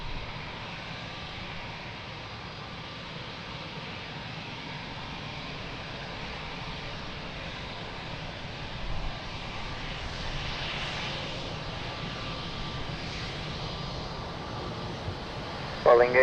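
An airplane at Lisbon Airport gives a steady, distant engine roar that slowly swells over a broad rumble, with a faint voice audible in the background.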